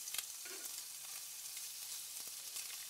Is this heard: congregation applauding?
no